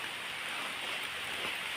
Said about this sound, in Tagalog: Medyo umaambon-ambon ngayon